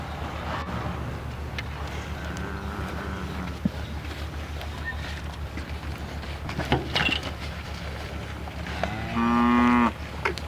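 Dairy cows in a pen low and moo in a few drawn-out calls, one loud near the end, over a steady low barn hum with no talk.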